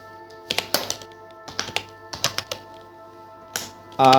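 Capital letters are typed on a computer keyboard in MS Word, heard as close, clicky keystrokes in short irregular bursts with pauses between them, ending in a brief louder burst, no talk.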